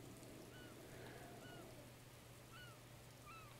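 Steady heavy rain hisses across a landscape in The Legend of Zelda: Breath of the Wild, a dense, even wash of noise that holds throughout, with a few faint bird-like chirps above it and no talk.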